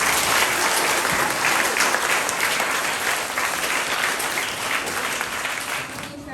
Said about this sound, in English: Can we give them all another clap?